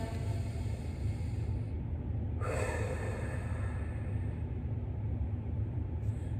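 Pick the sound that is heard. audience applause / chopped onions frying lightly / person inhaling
person inhaling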